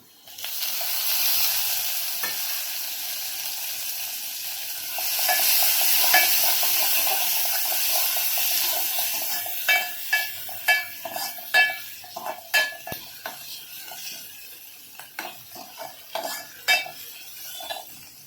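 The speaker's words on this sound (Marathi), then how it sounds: "कांदा लाल झाला आहे आता मी टोमॅटो टाकते" Onions and tomatoes sizzle in a hot pan. At first there is a steady frying hiss, then a spoon stirs and clinks against the pan in quick, uneven strokes, close and fairly loud.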